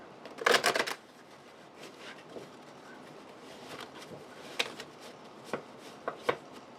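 A deck of cards is shuffled close by, opening with a loud riffling burst followed by quieter scattered snaps and taps of cards being squared and handled.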